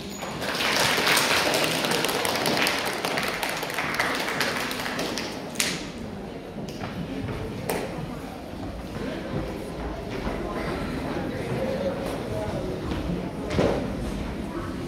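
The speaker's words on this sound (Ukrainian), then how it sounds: "Зустрічаємо їх бурхливими оплесками" Applause at a school talent celebration greeting third- and fourth-grade pupils, a steady, dense crowd clapping that carries loudly through the whole stretch, with a few sharper taps standing out.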